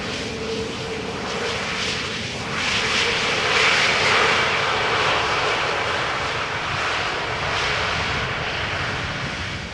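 Airliner arriving at Amsterdam Schiphol Airport, a steady broadband engine roar that swells slightly mid-way and holds at a fairly close, loud level throughout, with no voices.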